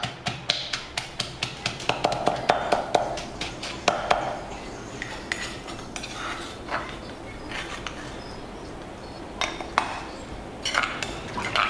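Repeated sharp knocks of pounding eight red chilies with shrimp paste in a mortar, coming in rhythmic bursts separated by short pauses, close by and fairly quiet.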